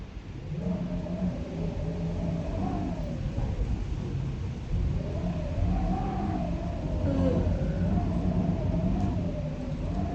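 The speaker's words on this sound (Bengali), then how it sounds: "দেখছো বাইরে হয়ে যাচ্ছে ঝড়" A storm rages outside: wind howls in a wavering, moaning tone over constant broadband rushing noise, steady and fairly distant.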